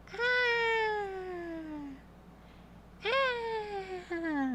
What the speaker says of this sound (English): has deemed it necessary to water the cat.